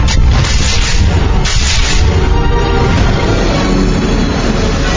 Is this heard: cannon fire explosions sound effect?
yes